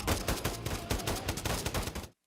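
A burst of gunfire from a scene in the TV show Barry, a dense, loud volley of rapid overlapping shots for about two seconds that cuts off abruptly into silence.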